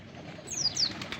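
A young wild white-eye gives two quick high chirps amid faint background rustle, close and brief, with no one talking.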